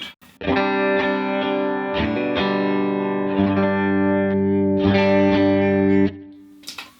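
Electric guitar chords through a Line 6 Helix clean preset ring out in a clean, bright tone, several strummed hits sustaining and changing, with no one talking.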